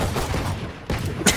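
Pistol gunfire in a video game: a short burst of two or three sharp shots with a louder crack at the end, loud and close, no talk.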